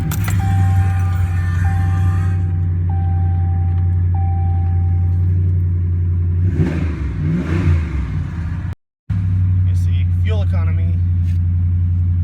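A 2014 Ram 1500 pickup truck starts up: a few chime tones sound over a deep, steady engine idle, the engine revs briefly, and a voice talks near the end.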